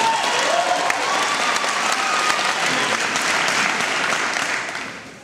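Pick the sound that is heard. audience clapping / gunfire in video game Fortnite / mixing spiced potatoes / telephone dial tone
audience clapping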